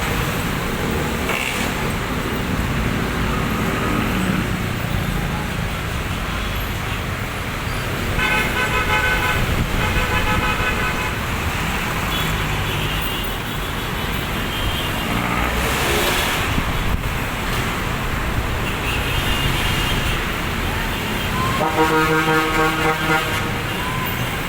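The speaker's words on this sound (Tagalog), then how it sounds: "napakaluwag pa po ng traffic ng papuntang Quiapo at Maynila" Steady road traffic on Del Monte Avenue in Quezon City, a continuous loud roar of cars and trucks with several car horns tooting at intervals.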